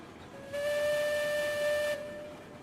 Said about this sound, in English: Can you hear my whistle?